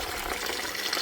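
Cold tap water runs steadily and close by, rinsing cooked, drained hamburger meat in a home kitchen while it is being prepared for canning; a continuous even splashing gush with no talking.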